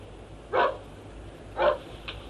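A dog barks in a house with a garden, two single barks about a second apart followed by a fainter short yip, heard at a moderate distance over a quiet room.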